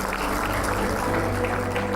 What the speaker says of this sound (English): And now we have a round of applause for Neena Puri, everybody.